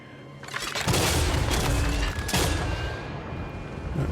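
A crossbowmen volley in Total War: Warhammer 3 lets loose as a dense, rumbling burst of many shots together, loud for a couple of seconds before tailing off into lingering battle noise.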